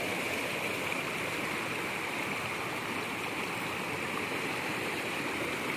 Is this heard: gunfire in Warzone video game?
no